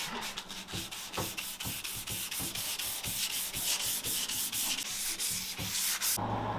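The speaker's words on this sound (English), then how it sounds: "just wet it and just hand sand it" Rhythmic back-and-forth scraping of sandpaper on wood, wet hand sanding, close and loud, repeated strokes at a steady pace, cutting off abruptly near the end.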